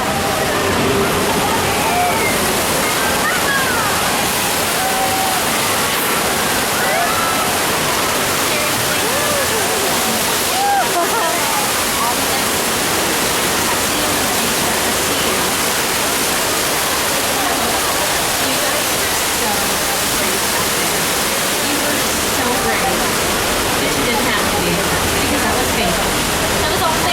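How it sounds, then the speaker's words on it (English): Water gushes and splashes loudly and continuously around riders on a studio tour attraction at Universal Studios Hollywood, a dense roaring rush that fills the whole stretch. "What is that? Water, look out!"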